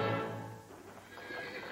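A horse pulling an old-fashioned horse-drawn trolley at Walt Disney World gives one loud, close whinny that fades into quieter snorting and hoof sounds.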